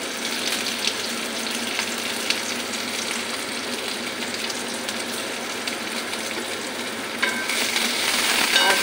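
Finely chopped onions fry in plenty of hot oil, giving a dense, steady hiss and crackle that carries on evenly and swells slightly louder near the end.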